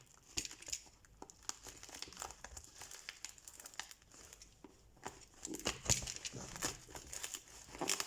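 Packaging for an LDO Orbiter v2.5 extruder being torn open by hand, close crinkling and ripping in uneven bursts, louder toward the end, with no voices.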